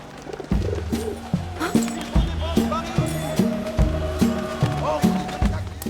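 A pigeon coos in the Valiant Hearts video game, set in Paris in 1914, with low repeated coos in a steady rhythm over game music, and a voice talks throughout.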